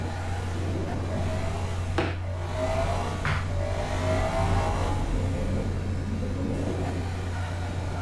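A car engine in Gran Turismo climbs through the gears toward top gear: a steady mid-pitched drone with two quick gear-change breaks, all at a moderate, constant level and no talk.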